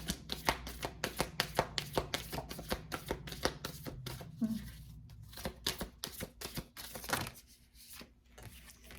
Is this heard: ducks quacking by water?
no